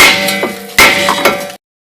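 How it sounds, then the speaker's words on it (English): A hammer beats a worn brake rotor off a 2012–2017 Toyota Camry, giving loud, close metallic clangs with ringing decay, about three blows in quick succession before abrupt silence. "I'm just going to beat it with a hammer to get it off because I'm replacing it."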